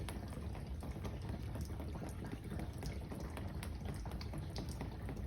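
Water runs steadily into a camper van's fresh water tank through newly fitted fittings, a constant low rushing and bubbling fill that stays even throughout, quiet and unbroken, with no voices.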